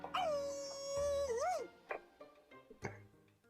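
A voice performing a character in the video game Fire Emblem Engage imitates a dog with a drawn-out whine that wavers and bends, followed by short yips and whimpers.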